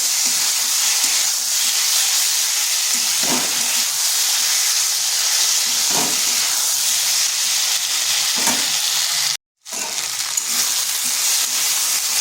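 Onion and ginger paste frying with spices in a pan, giving a steady broad sizzle and hiss with faint stirring scrapes, interrupted by a brief silent gap near the end.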